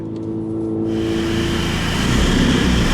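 A Mini's engine droning and revving as it drives through a short tunnel, the sound swelling in loudness and reverberating off the walls, close and strong.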